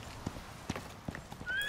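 In the survival video game Icarus, a saddled horse's hooves clop in a few spaced, soft thuds, followed by a short, faint whinny at the end.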